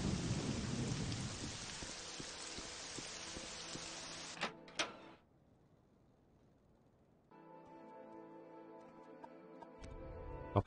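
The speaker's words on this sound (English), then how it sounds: "Raining now." Steady heavy rain with rumbling thunder in the video game Morrowind fills the first five seconds loudly, then cuts to near silence before a quieter, tonal ambient bed returns.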